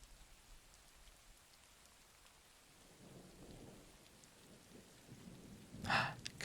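Steady rain patters on surfaces, and a low rolling rumble of thunder builds midway before a sharper crack of thunder near the end.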